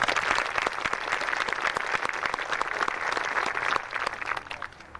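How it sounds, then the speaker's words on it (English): A ceremony audience at a flag plaza dedication applauds in memory of Allie Reynolds, dense sustained clapping that thins and fades out over the last second. "I would like to ask for applause to recognize in memory of Allie Reynolds"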